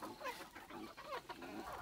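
A brooding hen sitting on eggs, heard close with a run of soft, varied clucks and murmurs that carry on steadily without pause and with no talk over them.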